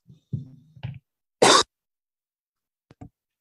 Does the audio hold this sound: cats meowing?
no